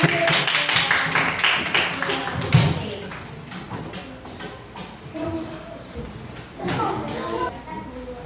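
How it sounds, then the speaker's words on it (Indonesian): A classroom of students clapping hands together in a coding lesson, two bursts of brisk clapping, the first longer and louder, the second shorter after a pause, with a teacher's voice around them. "oke, tepuk tangan."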